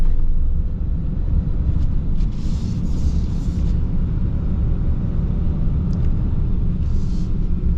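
A 2025 AEV Prospector XL truck with a high-output Cummins diesel engine driving, giving a steady low rumble of engine and road noise from inside the cab, loud and continuous with no talking.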